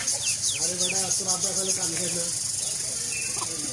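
Chickens and chicks chirp and cluck nearby in quick repeated calls, with a hissing background noise underneath; the calls thin out toward the end.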